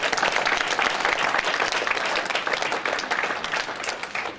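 Comedy club audience breaking into steady applause and clapping, a dense, sustained wash of many hands close by that fades slightly toward the end, with no talk over it.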